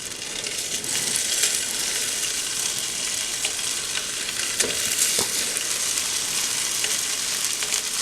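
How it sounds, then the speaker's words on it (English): Spam slices fry in a pan with a steady, close, full sizzle that crackles continuously throughout, with a few sharper pops near the middle and no talking. "let's cook the spam"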